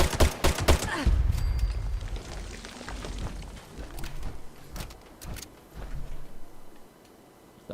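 A Furious Crusader pistol fires in Fallout 76: a quick burst of sharp, loud shots at the start, followed by scattered single reports and rumbling in-game ambience that fades toward the end.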